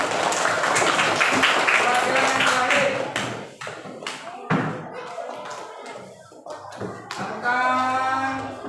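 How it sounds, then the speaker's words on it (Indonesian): A class audience claps in a burst that fades after about three seconds, followed by scattered taps and thumps while a person speaks briefly, then a short renewed patter of hands near the end. "Yo, tepuk tangan."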